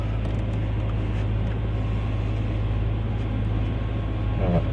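Hedge cutters run in the background, giving a steady, unbroken motor drone that stays at a moderate level for the whole stretch, with no one speaking.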